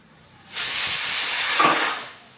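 A pressure cooker whistle vents steam while idli cooks, a loud close hiss that bursts on after half a second, holds for about a second and a half, then tapers off.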